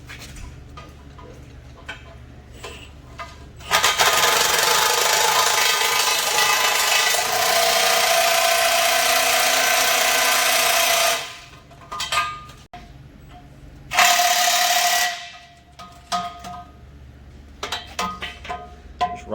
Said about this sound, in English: Rocking the impact with the chrome socket.